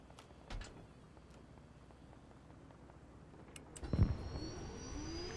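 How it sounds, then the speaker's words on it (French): A helicopter engine starting up in the video game Arma Reforger, a steady low rumble that swells with a thump near the end as a rising turbine whine begins, with no talk. "Start engine."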